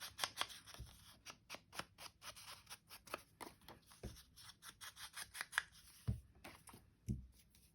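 Paper tears along a straight edge in a series of quick, close, rhythmic rips and rubs, fairly quiet with no talking.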